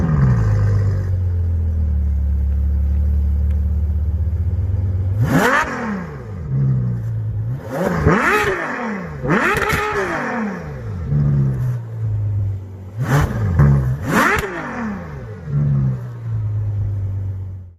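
A Ferrari 12 Cilindri's V12, about 830 horsepower, idles with a deep steady hum and then blips through a series of sharp, rising revs, each flaring and dropping back, close and loud with no talking.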